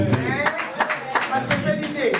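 An audience at a film premiere claps in scattered, uneven bursts for a couple of seconds, with voices talking over the applause.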